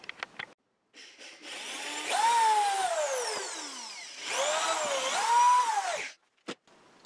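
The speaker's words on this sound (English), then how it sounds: "now I'm drilling into the top of the leg for these bolts to be able to go into" A power drill bores into the top of a wooden leg for bolt holes, two sustained whining bursts with rising and falling pitch as the bit loads, separated by a brief pause, with short clicks before and after.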